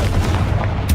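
A Confringo blasting curse explosion in Hogwarts Legacy, heard as a loud, dense one-second burst of booming, gunfire-like crackle over a heavy low rumble.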